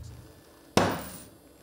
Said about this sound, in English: And once he'd got it out, being Neil, he couldn't resist the hammer again, and so he hammered it again, almost flat.